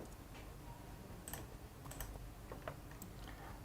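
A computer keyboard is typed on in short, faint clusters of light key taps as a username and password are entered, over steady background hiss with no voices.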